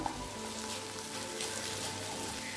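Beaten egg cooking in a pan for Tamil egg poriyal, giving a soft, steady crackling sizzle close by, fairly quiet and unbroken, with nobody talking.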